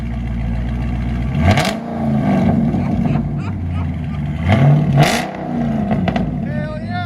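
2020 Dodge Charger 392 Daytona Edition with a 6.4L HEMI and straight-pipe dual exhaust, mufflers and resonators removed, rumbling loud and close, with a couple of throttle blips rising over the deep idle.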